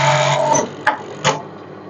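An industrial buttonhole sewing machine runs in a short whirring burst, then stops with two sharp clicks as it cuts and trims the thread.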